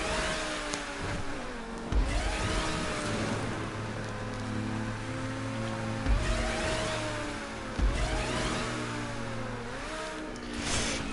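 A car in GTA 5 accelerates hard at full speed, its engine roaring loudly and continuously, with the revs climbing and dropping back in repeated sweeps at each gear change over a steady rumble.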